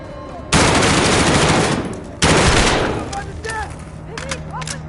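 Two long, loud bursts of machine gun fire in the Modern Warfare campaign, each a dense continuous roar lasting over a second, followed by quieter chatter and battlefield effects.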